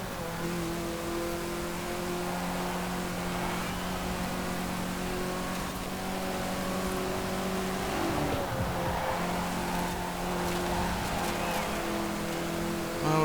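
Rally cars racing in Forza Horizon 4, a Lancia Fulvia and a Renault, their engines droning steadily and loud throughout with a brief shift in pitch midway, no talking.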